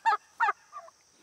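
Poultry out on pasture where turkeys and chickens range together, giving two loud, close honking calls followed by a softer third, with no talking.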